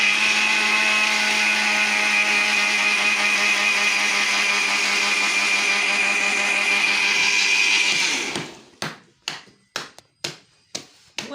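A kitchen mixer grinder runs with a steady high whine for about eight seconds, then stops and gives a series of short pulsed bursts.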